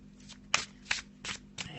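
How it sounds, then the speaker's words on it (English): A Faulkner tarot deck shuffled by hand, with four or five quick, crisp riffling bursts in a steady rhythm, heard up close in a quiet room. "Let's just have a little shuffle and pop a card down"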